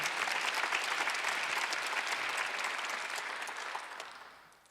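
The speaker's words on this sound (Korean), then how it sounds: "박수 좀 세게 쳐봐요" A church congregation claps together in sustained applause during a Thanksgiving service, a dense crowd sound that fades out over the last second.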